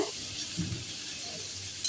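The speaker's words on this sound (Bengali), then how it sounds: "আমি প্রথমে ফুলকপি আর আলুটা তেলে লবণ দিয়ে হালকা করে ভেজে নেব" A steady oily sizzle of cauliflower and potato pieces frying in oil in a pan, with a faint stir or scrape partway through.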